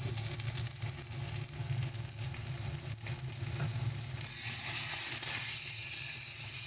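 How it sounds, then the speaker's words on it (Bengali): Ground red chilli, cumin, coriander and salt stir-fry in a pan for a fish curry, a close, steady hissing sizzle with a few soft stirring scrapes, rising slightly louder toward the end. "এবার খুব ভালো করে মশলাটাকে কষিয়ে নিতে হবে।"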